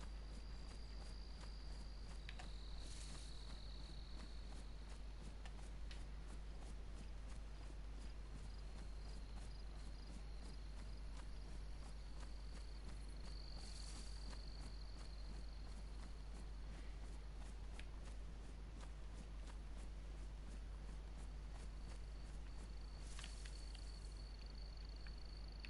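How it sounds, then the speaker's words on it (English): Crickets in the video game DayZ chirp steadily and faintly through a long night ambience, with occasional brighter high trills rising above a constant low hum. "Listen to those crickets."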